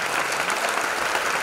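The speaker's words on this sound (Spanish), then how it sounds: "Quiero un fuerte aplauso para esta señora que está en la sala." A theater audience at a dance show's anniversary performance gives dense, steady applause for the soprano Mercedes Robledo, seated in the hall.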